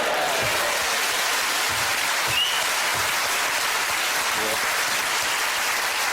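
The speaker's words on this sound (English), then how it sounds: "One of these has never had a round of applause from 600 people." A studio audience of about 600 people breaks into loud, sustained applause that holds at an even level throughout, with some voices mixed into the dense clapping.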